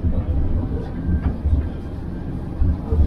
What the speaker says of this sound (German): Unser Zug, der kommt hier an. Der kommt hier vorbeigeschoben.